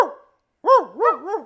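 A person imitates a dog's barking with several voiced woofs, one short call followed by a pause and then three rising-and-falling barks in quick succession, close and loud.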